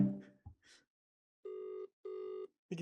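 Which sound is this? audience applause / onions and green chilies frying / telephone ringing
telephone ringing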